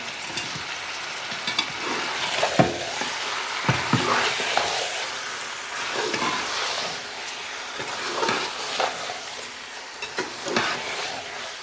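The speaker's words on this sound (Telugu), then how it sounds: "ఒకసారి మంచిగా కలుపుకున్నాం పుదీనా వేసిన తర్వాత" Chicken curry with fresh mint being stirred in a pan of hot oil, a steady sizzle with repeated scraping and clinking of the spoon against the pan, close and continuous.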